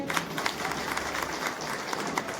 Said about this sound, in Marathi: बघूया तरी टाळ्यांचा आवाज कसा येतोय